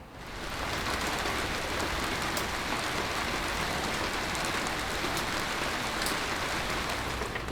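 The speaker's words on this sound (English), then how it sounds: "With all this autumn rain" Steady autumn rain falls and patters on surfaces, a continuous dense hiss with no voices, holding at an even level throughout.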